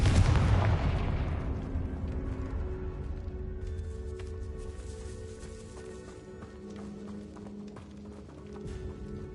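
Confringo blasting spell in Hogwarts Legacy, a single loud explosive boom at the start that decays into a long fading rumble with faint clattering and scraping afterward, no talk.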